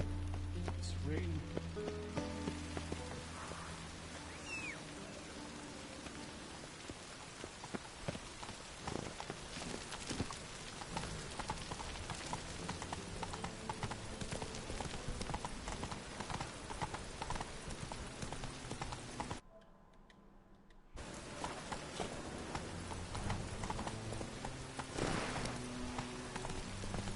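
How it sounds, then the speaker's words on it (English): Rain falls steadily in The Witcher video game while horse hooves clip-clop along beneath it, with a brief dip in the sound partway through. "It's raining."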